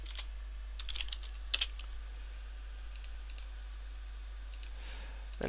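Someone types quietly on a computer keyboard while working in the Source SDK editor. The soft, close key clicks come in short irregular bursts over a low steady hum.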